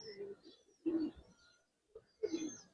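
An orange-eyed Giribaz pigeon coos in a loft, three soft throaty coos spaced about a second apart, fairly faint and close.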